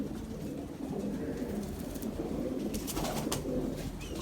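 Red sukha breed pigeons coo softly and repeatedly at close range, low murmuring calls over a quiet background with a few faint rustles and wing sounds.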